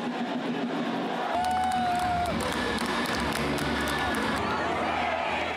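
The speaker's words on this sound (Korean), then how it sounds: "열렬한 환호 속에 문 후보가 나타납니다." A crowd cheers for presidential candidate Moon Jae-in at a 2017 Korean campaign event: a dense, continuous roar of voices and shouting, with a low rumble joining partway through.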